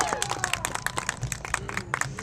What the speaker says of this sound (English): We need a lot of applause.